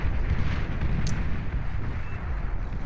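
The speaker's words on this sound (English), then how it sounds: "Can't believe that wall cannon can hit that far." Distant booming blasts from a wall cannon in a sci-fi shooter game, a continuous low rumbling barrage with a brief sharp crack partway through, no voices over it.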